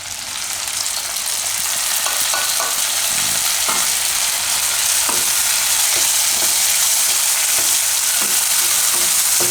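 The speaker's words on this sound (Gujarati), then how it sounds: "હવે આમાં આપણે નાખી દઈએ ટમેટાં." Tomatoes are dropped into a hot pan and stirred, setting off a loud, steady sizzle that fills the whole stretch. Scattered scraping stir strokes sound close over the frying, with no one speaking.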